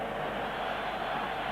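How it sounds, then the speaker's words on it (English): Dense, steady roar of a large football stadium crowd cheering and chanting at a 1988 Spain versus Northern Ireland match, a continuous wall of distant voices with no single speaker standing out. "the noise is deafening. The cheering, the flag waving"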